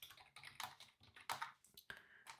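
Quiet computer keyboard typing in uneven bursts of clacking keystrokes with short pauses, close up and with no voices, as code is written for a small TopLogic model.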